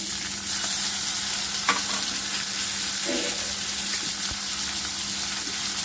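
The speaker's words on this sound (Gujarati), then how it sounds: "હવે તેલ આવી ગયું, તેમાં આપણે આ મેથીની ભાજી છે એ આપણે એડ કરવાની છે" Fenugreek leaves (methi) drop into hot oil for a bajra-flour mixed-greens tikki, giving a steady, close hiss and crackle with a few stirring scrapes and no talk.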